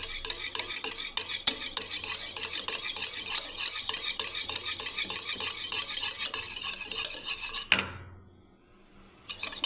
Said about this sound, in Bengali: ভালো করে এটাকে ঘাটতে হবে দইটাকে